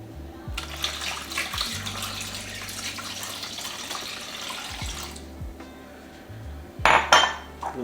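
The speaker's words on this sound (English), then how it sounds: "then you could just take about 2 cups of water and pour that at the bottom." About two cups of water splash and trickle into the bottom of a metal roasting pan holding a ham, a steady pour under kitchen room noise, followed by a sharp clink of pan or dishes near the end.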